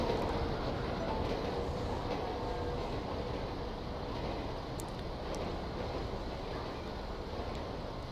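A train rumbles past steadily in the Los Santos game world, a dense continuous low roar with faint wind-like hiss and no talking.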